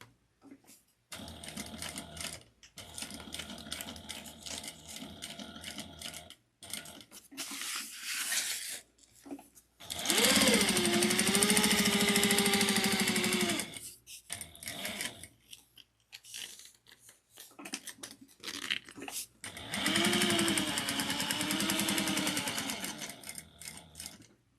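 A sewing machine running reinforcement stitching on a tote bag, in two long, loud, steady whirring runs with a pitch that rises and falls, and softer handling clatter and pauses between them.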